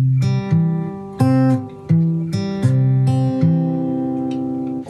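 Slow fingerpicked guitar pattern alternating across the fourth, third, fifth and second strings, single plucked notes ringing clearly and sustaining into each other in an even, unhurried rhythm, close and alone with no talk.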